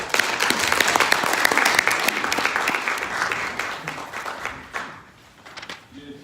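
An audience at a seminar on the suspension of joint military drills gives a speaker dense, close applause that swells, then thins out and fades to scattered claps near the end.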